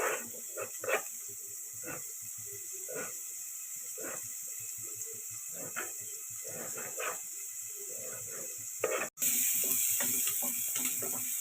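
Onions fry in a hot pan for egg sambar, a steady sizzling hiss running throughout with intermittent softer bubbling and clinks beneath, moderately close, briefly interrupted near the end before the sizzle resumes.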